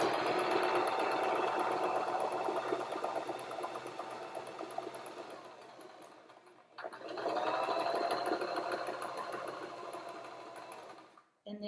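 A sewing machine runs in long steady bursts while stitching down a pocket, a dense whirring chatter that pauses briefly midway, then resumes before stopping near the end.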